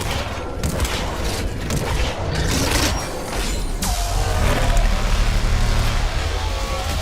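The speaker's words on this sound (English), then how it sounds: "The Hydra missile launcher?" Rapid bursts of Hydra missile launcher fire in Mass Effect, a loud stream of explosive blasts and mechanical clatter that settles into a rumbling boom.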